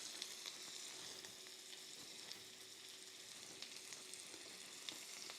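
Garlic sizzles in melted butter in a pan for crispy smashed potatoes: a steady, close hiss with light crackles and small pops all the way through.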